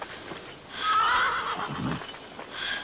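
A horse gives a short, loud whinny, with faint hoof clip-clop and background noise around it and no talking.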